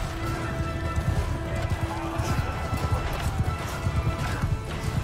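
Horses gallop in a Mount & Blade 2: Bannerlord battle, with rapid rhythmic hoofbeats over a dense clash of combat noise, carrying on steadily throughout.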